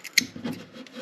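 Scissors snip fiberglass cloth for a homemade sailboat, giving a short sharp cut followed by a soft rasping, rubbing drag of the fabric, close and fairly quiet.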